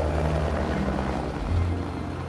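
A helicopter in the video game Resident Evil gives a loud, steady rotor and engine roar that fills the whole moment without a break.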